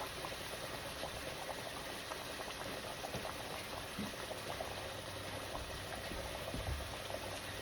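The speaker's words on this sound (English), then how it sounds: "Go ahead on and reduce that fire down to a simmer." Cube steak liquid simmers in a pot, making a continuous close bubbling and boiling hiss that stays even and steady throughout, with no voices.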